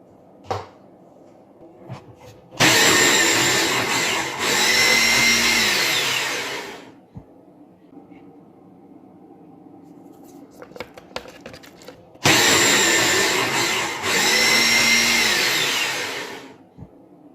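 Food processor grinding a white bean and pecan mixture with cornstarch and egg yolk, two loud bursts of about four seconds each separated by quiet handling clatter.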